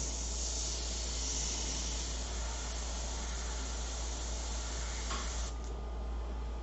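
Paint airbrush that is not spraying properly: a steady close airy hiss runs throughout, shifting slightly near the end, with no voices.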